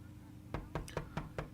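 Five evenly spaced knocks on a door sound in quick succession, close and clear over a low background hum.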